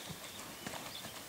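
Hooves of a black Lusitano colt clip-clop on the ground in a quick, uneven series of soft, close taps, at the start of its breaking-in, with a faint whinny-like tone and low background noise.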